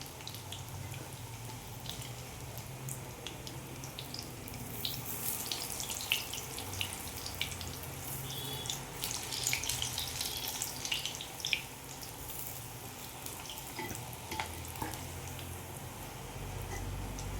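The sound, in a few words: spinach fritters (palak bhaji) frying in oil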